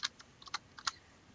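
Quick, light clicking key presses as numbers are punched into a handheld calculator, about six soft taps in an irregular rhythm, close and faint in a quiet room.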